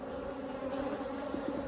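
Africanized honey bees swarming around a Langstroth hive in a residential area make a steady, droning buzz with a few individual bees passing close, at a soft to moderate level with no one talking.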